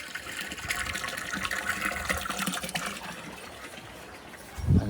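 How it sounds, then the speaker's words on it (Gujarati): Water running steadily into a tank in a cattle shed, a continuous mid-level gush and splash that holds its level throughout, with a brief louder thump near the end. "પાણી ભરાવાનું ચાલુ છે, હમણાં જ ચાલુ કરી છે."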